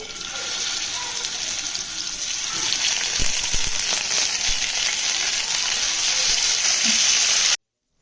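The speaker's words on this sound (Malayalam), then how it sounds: "ഇത് ഞാനിനി ഒരു പാനിലേക്ക് ഓയിൽ ഒഴിച്ചിട്ടുണ്ട്. അതിലേക്കിട്ട് ഫ്രൈ ചെയ്ത്" Chicken fries in hot oil in a pan, giving a steady, bright sizzle that swells slightly with a few soft clinks before cutting off abruptly near the end.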